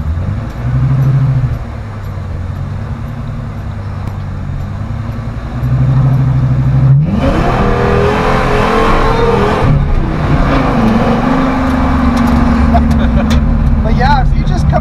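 A V10-swapped Ford F100 revs against a limiter set to 5600 rpm, a loud, close, continuous engine roar that climbs sharply partway through and holds high, with people talking over it.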